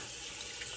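Warm water running from a bathroom tap during a shave, a steady close hiss of flowing water with no break across the short moment.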